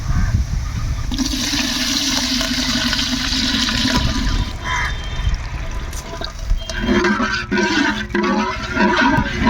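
Water poured into a pan of deep-red fried onions for chicken biryani, a steady close rushing splash and sizzle that lasts several seconds before easing into bubbling simmer, with no talking.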